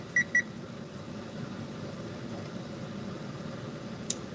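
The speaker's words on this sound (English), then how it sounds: "There's the timer." A kitchen timer gives two quick, fairly faint beeps at the very start, then falls silent over a steady low room hum.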